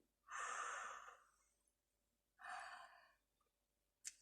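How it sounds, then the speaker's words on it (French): A person yawns during a yoga session with two long, breathy, open-mouthed exhalations separated by a pause, heard up close and alone in a quiet room. "Fermez les yeux et puis ouvrez la bouche pour bailler."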